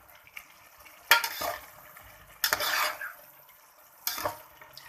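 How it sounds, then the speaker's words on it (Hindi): Green masala for biryani stirred hard in a pot over high flame: three bursts of spoon scraping and clattering against metal amid a soft sizzle, close and without talk. "फ्लेम हाई करके हमने इसको अच्छी तरह से मिक्स करना है।"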